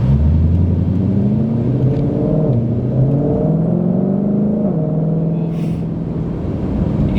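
A 2020 Shelby GT500 engine roars loudly and continuously, its pitch climbing through gears and dropping with crisp downshifts, heard close from inside the car with no talk.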